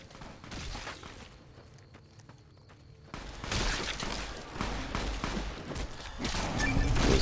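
Gunfire in Fallout: New Vegas during a fight with a gang, a burst of sharp loud shots followed by a quieter lull, then dense heavier shooting and impacts building toward the end.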